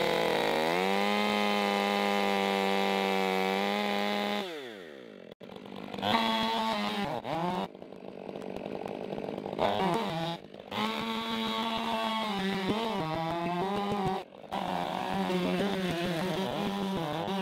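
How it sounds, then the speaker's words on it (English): Chainsaw cutting into a tree stump, its engine screaming loud and close at high revs, then bogging and surging unevenly as the saw bucks in the cut, with brief drops in between. "But I've never had my saw try to buck like this."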